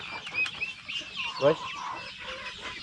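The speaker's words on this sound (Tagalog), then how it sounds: "mapapakain tayo sa ating mga alagang manok" Pet chickens cluck at feeding time, a busy flock chattering in a steady stream close by, with a brief word of human speech among them.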